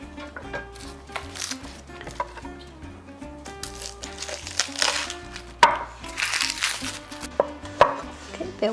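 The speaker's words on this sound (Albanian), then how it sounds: "Dhe hudrën po e presim" A knife chops garlic finely on a board, giving a steady run of close, crisp chopping taps with a few sharper knocks, under quiet background music.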